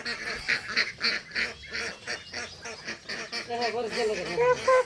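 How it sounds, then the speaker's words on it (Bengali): Domestic village ducks in rural Bangladesh quack in quick, rhythmic bursts near at hand, growing busier toward the end, with a voice mixed in. "এই যে পান্তর হাঁস খালি নাম এই পান্তর হাঁস মাসি পালে"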